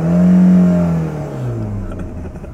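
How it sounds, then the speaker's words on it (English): A car engine revs loudly close by, its tone rising to a strained whine before sliding down and fading into a lower idle-like hum over roughly two seconds, with no talking. "The sound of that engine."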